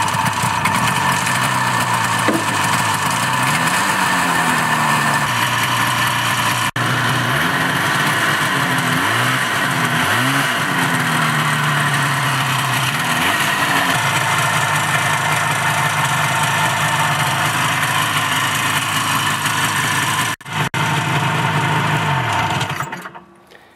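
A Citation 4500 snowmobile with a Rotax 377 engine starts and runs, a loud, buzzy two-stroke idle with several revs rising and falling, then cuts off abruptly near the end.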